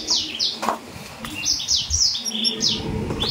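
Small local canaries chirping close by in a cage, a quick series of bright, high tweets in clusters over a soft background murmur, with no voices.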